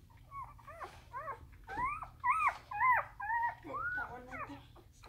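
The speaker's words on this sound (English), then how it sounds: "the dogs are going nuts" Several dogs yelp, whine and bark in quick overlapping bursts with a low growl beneath, fairly close and agitated, around a household with day-old puppies.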